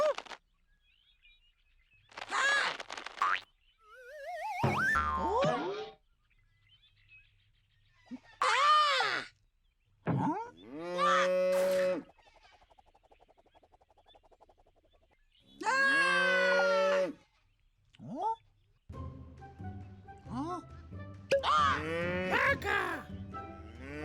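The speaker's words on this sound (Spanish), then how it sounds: "¡Vaca!" A cartoon cow in a children's animal-naming show lets out several long, drawn-out moos, each separated by short pauses, with light background sounds between.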